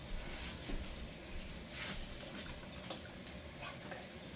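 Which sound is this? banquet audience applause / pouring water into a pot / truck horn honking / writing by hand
pouring water into a pot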